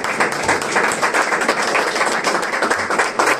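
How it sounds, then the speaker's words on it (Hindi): Church congregation applauding in a sustained burst of clapping, dense and steady throughout, fairly loud and close, with no clear talk over it. "जोरदार तालियां दे उसको।"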